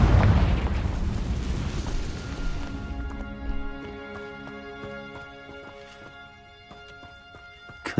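A loud burst from the Confringo fire spell in a Harry Potter video game opens with a heavy boom, then fades into ringing, sparkling tonal debris and a lingering rumble over several seconds.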